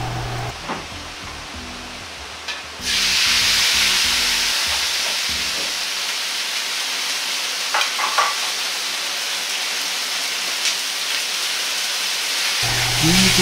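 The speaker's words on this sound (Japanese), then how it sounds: "牛肉は全体の色が変わってくるまで炒めていきます。" Beef sizzling loudly in hot sesame oil in a pot, a steady hiss of frying with occasional stirring scrapes; a low hum is heard at the start before the sizzle swells.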